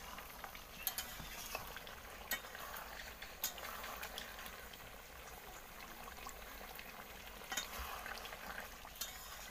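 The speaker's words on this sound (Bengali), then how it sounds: "কিন্তু দেখো বন্ধুরা এখানে মাংস কষানো চলছে।" Meat being sautéed in a pan with spices gives a faint, continuous sizzle and frying crackle. Soft stirring clicks and scrapes come at irregular intervals throughout.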